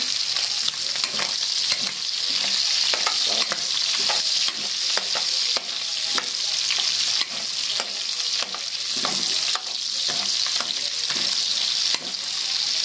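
Meat and garlic frying in a pan for Filipino odong, with a spatula stirring through steady loud sizzling and repeated scraping strokes at an even rhythm, no voices.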